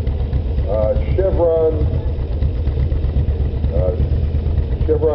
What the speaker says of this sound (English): This is a depression tractor restored by the St. Henry